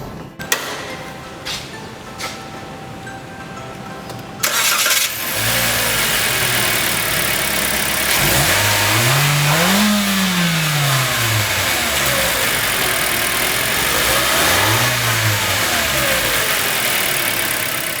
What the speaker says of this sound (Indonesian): Mendingan kita pindahin mobilnya ke sebelah sana, jadi kita bandingin langsung apa bedanya Veloz baru dengan Veloz yang pre-facelift.